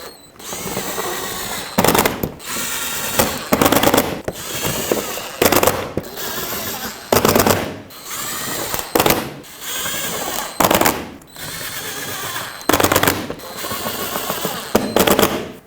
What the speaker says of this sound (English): Resecure it with all the 7mm screws that were holding it in place